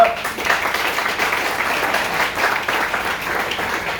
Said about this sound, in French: Est-ce qu'on peut acclamer pour les mamans ce soir?